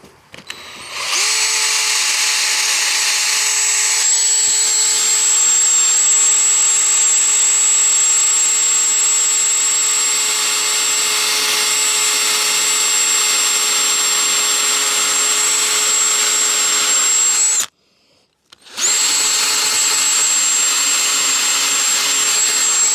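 A handheld drill spinning a polishing pad against a 2005 Toyota Prius headlight, a steady high whine and hum running continuously, briefly cutting out and then restarting, loud and close with no talking.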